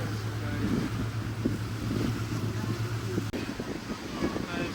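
A ferry crossing Dubai Creek gives a steady low engine rumble with wind buffeting the microphone and some water noise, continuous and close throughout.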